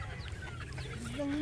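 Chickens on a farm, four months old, of both sexes, raised in a spacious roaming area, cluck softly and continuously nearby, with a faint rooster-like call rising near the end.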